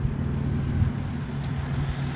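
Turbocharged 1997 Toyota 4Runner with a 3.4 engine idling, a low steady rumble with no revving, heard alone and fairly quiet for a couple of seconds.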